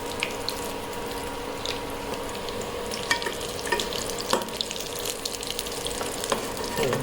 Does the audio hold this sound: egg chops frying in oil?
yes